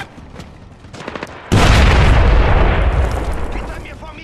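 Faint gunfire and voices give way to a sudden loud, booming grenade blast that roars and slowly fades, in the video game Splinter Cell: Blacklist.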